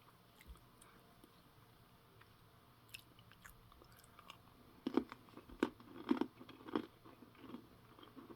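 A French 24-hour ration biscuit topped with strawberry jam is bitten and chewed up close, with a quiet lead-in and then a cluster of sharp, crunchy bites and chews.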